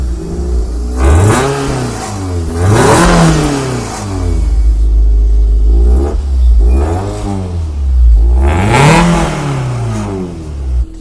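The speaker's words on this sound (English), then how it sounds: "Okay, the engine settles. It sounds a lot louder." Toyota MR2 engine with a performance induction kit fitted, revved repeatedly in loud bursts that climb and fall back, about five blips over a steady idle.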